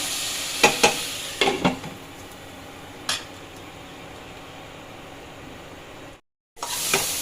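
Spice paste (masala) fries in a pan for pepper ghonto, a continuous hiss-like sizzle with a few clustered stirring scrapes early on and one later, then a brief dropout before the sizzle resumes.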